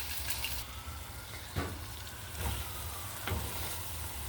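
Dried fish from Cox's Bazar, Bangladesh, sizzles in a pot of pre-fried spice masala, a steady soft frying hiss broken by a few brief scraping stirs, close and fairly quiet, with no voices.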